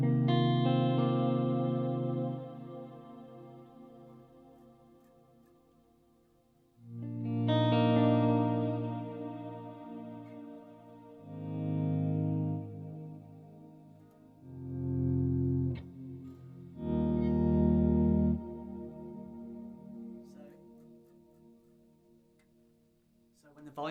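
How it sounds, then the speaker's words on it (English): Electric guitar chords played through an effects chain in bursts, each ringing out into lingering reverb trails that keep sounding after the volume pedal at the end of the chain is turned down; the sound is clear and fairly loud with no talking. "Volume pedal is turned down, you still get the spillover, the reverb trails, really nice."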